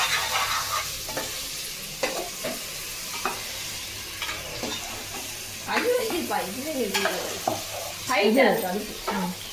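Biryani sizzles in a pot while a spoon stirs it, giving repeated scraping strokes over a steady frying hiss, with brief voices heard now and then.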